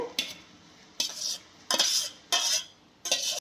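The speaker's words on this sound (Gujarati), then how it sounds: "વાસણમાં આવી રીતે ચાયણો રાખેલો છે અને એમાં આપણે બધા જ ભાતને કાઢી લેવાના છે" Cooked rice is scooped from a pot into a strainer set over another vessel, giving five separate bursts of metal scraping and clattering spaced about a second apart, close and fairly loud with quiet gaps between.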